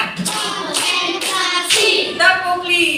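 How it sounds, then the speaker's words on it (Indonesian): Several sharp hand claps ring out in quick succession in a classroom where a teacher leads children in a counting clap game. The claps are loud, close and slightly resonant, with no talking. "Tepuk satu, tepuk dua, tepuk tiga"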